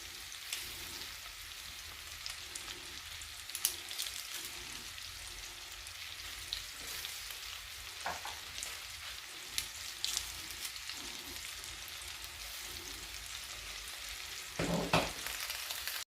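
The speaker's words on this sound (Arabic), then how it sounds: "غادي نضيف واحد 3 ديال البروس ديال الثومه مفرومين" Three cloves of minced garlic fry in a pan with a continuous, fairly soft crackling sizzle, dotted with a few louder pops and a short burst of stirring near the end.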